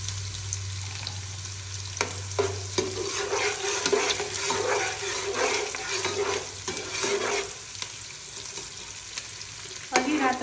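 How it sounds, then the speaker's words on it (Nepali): Onions fry in hot oil in a pan with a steady, close sizzle, punctuated by stirring scrapes and the occasional clink of a utensil. "अब त्यसमा चाहिँ यो प्याज हालेर कस्तो आँखै पोलो म चाहिँ यो प्याज हालेर रातो रातो बनाएर फ्राई गरेर झिक्छु।"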